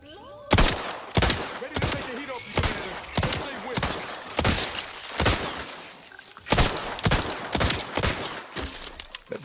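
Rapid pistol gunfire in the video game The Outer Worlds 2, a dozen or so sharp loud shots in uneven bursts, no talk over them.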